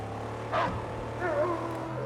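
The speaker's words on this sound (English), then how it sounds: "I know it's not an injured dog noise, but that is not a cool noise either" A dog howls twice in the Mad Max video game, two short wavering calls over a steady low engine-like hum, moderately close and alone without talk.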